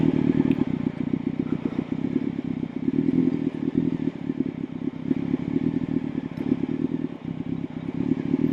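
A motorcycle idles and creeps through a slow-speed clutch drill, its engine a steady low putter with some clatter, close and continuous with no talking.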